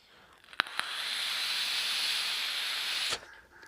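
A draw on a Fumytech Windforce RTA atomizer: two quick clicks, then a steady airy hiss lasting about two and a half seconds that ends abruptly, close up with no speech.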